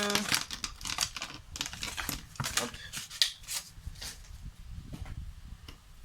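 A small scrap of paper crinkles and rustles in bursts of crisp, close handling noise, with a few sharper crackles scattered through.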